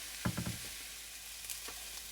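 Red chili flakes toast with onions in a hot pan, giving a steady close sizzle with a few brief louder crackles near the start and no talking.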